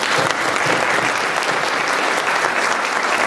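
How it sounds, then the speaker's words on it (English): Audience at an Atlanta Board of Education community meeting claps steadily, a dense, even wash of applause lasting throughout with no voices standing out. "will you please give everybody a round of applause for being here tonight?"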